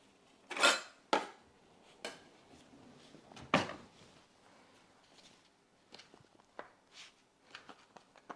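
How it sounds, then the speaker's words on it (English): A bench knife cuts through sourdough scone dough made with caramelized onion and butter on a work surface, giving several sharp, separate taps and knocks, loud and close, then softer scattered clicks, with no talking. "I'm going to cut these with a bench knife"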